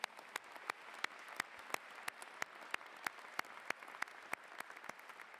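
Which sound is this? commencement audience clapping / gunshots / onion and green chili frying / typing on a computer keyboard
commencement audience clapping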